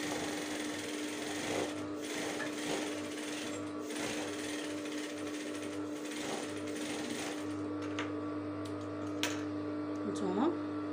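A sewing machine stitches a fabric hair scrunchie with a steady, continuous motor hum and rapid needle chatter throughout, close and fairly loud, with faint household noise around it.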